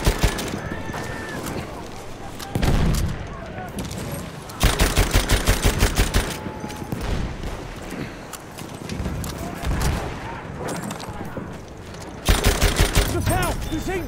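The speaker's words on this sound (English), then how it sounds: "Look out! Machine gun!" Repeated bursts of rapid automatic machine gun fire in the World War I shooter Battlefield 1, loud and close, separated by stretches of battlefield din with voices in the mix.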